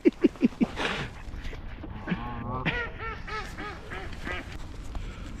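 Several ducks quack close by, starting with a quick run of loud honking quacks, then a longer stretch of softer, overlapping nasal calls.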